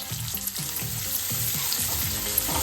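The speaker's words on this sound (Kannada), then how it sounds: "ಇದನ್ನ ಹಾಕಿಕೊಂಡು ಸ್ವಲ್ಪ ಫ್ರೈ ಮಾಡ್ಕೊಳ್ಳೋಣ" Finely chopped medium-size onions fry in hot oil in a pan, a steady close sizzle broken by regular stirring scrapes about every half second, with no voices.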